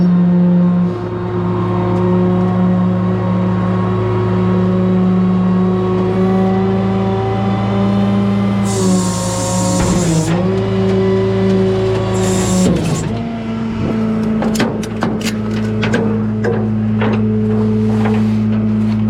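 A five- or six-speed manual car's engine idles steadily, then revs up and settles, its harmonics rising and falling; a brief burst of high hiss and some clicks come partway through, with no talking.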